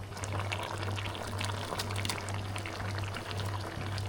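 Ground paste being poured into a simmering meal maker gravy with potatoes, a soft continuous wet pouring and bubbling sound with a low steady hum underneath, fairly quiet and without talk.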